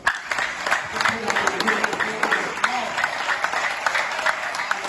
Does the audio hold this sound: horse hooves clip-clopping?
no